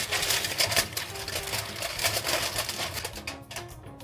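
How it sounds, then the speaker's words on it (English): Aluminum foil is wrapped around a Brazilian pudim dish before baking, with close crinkling and rustling that continues throughout and no talking. "before going to the oven, it's good that it's wrapped with aluminum foil too"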